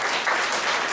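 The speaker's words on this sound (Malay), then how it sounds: "berilah tepukan gemuruh kepada diri sendiri di atas" An audience at an evening appreciation event claps loudly and continuously, a dense, steady wash of applause from many hands, with no speech over it.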